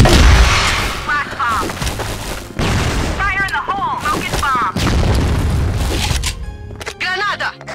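Grenade explosions in a video game, heavy booms and bursts of gunfire repeating across the stretch, mixed with loud, excited voices talking over the action.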